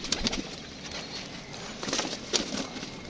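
Pigeons coo in a loft beside a slaty-coloured pigeon breed, several soft, repeated coos rising and falling over steady background noise, with a few louder calls near the end.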